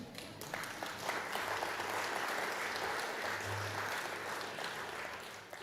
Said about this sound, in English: you do deserve a round of applause for that